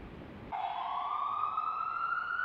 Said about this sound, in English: This ambulance is just sitting here, stuck in traffic.